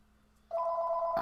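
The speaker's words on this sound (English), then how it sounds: "that phone needs to shut the hell up" A telephone ringing during a live stream, a sudden steady electronic two-tone trill starting midway, moderately loud, with a brief knock or bump at the very end.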